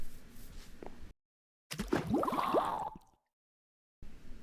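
Water being placed in the Minecraft video game gives a wet splash followed by a burst of bubbly, gurgling pops lasting about a second. Short silences separate it from quieter background sounds before and after.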